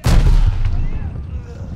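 Grenade blast in the Call of Duty Vanguard Rats of Tobruk mission, a loud, close, deep boom that rolls off into a rumbling tail of debris and battlefield noise.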